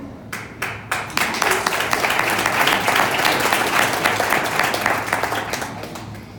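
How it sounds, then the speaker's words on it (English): An audience at a venture pitch night bursts into loud, sustained applause after a couple of early claps, many hands clapping together steadily until it tapers at the end. "one round of applause."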